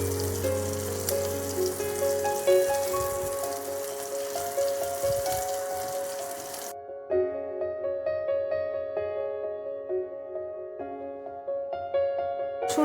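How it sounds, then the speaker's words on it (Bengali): Garlic frying lightly in a pan gives a steady crackling sizzle that drops out partway through, while tonal background music plays on throughout. "রসুন হালকা ভেজে নিয়েছি।"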